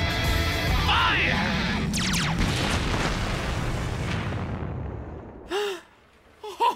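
A massed volley of gunfire from a line of cartoon soldiers erupts together on command as one loud, dense roar that slowly fades over several seconds, followed by brief excited voices.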